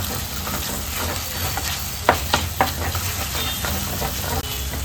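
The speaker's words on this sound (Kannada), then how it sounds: "1 ಚಮಚದಷ್ಟು ಶುಂಠಿ ಬೆಳ್ಳುಳ್ಳಿ ಪೇಸ್ಟನ್ನು ಹಸಿ ವಾಸನೆ ಹೋಗುವವರೆಗೆ ಫ್ರೈ ಮಾಡ್ಕೊಳ್ಳಿ." Ginger garlic paste and green chillies frying in a pan for a dry fish curry, a continuous bright sizzle with a few quick stirring scrapes, close and without voices.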